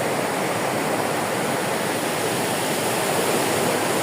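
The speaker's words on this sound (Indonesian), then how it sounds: "Ini sungai Berangubat teman-teman semua." The Berangubat river after a flood rushes in a loud, steady, broadband roar of fast-moving water, continuous and close, with no voices.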